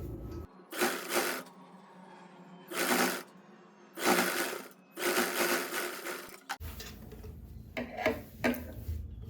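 A sewing machine runs in several short bursts while stitching a contrast fabric strip onto a puff sleeve, each run a whirring rattle separated by pauses, close and clear with handling noises between.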